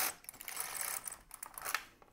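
A knitting machine carriage slides over the needle bed during short rowing, a quiet, close rattle of fast clicking ticks as the needles are picked up in a single pass.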